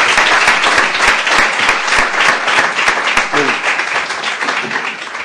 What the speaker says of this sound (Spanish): con un fuerte aplauso para el señor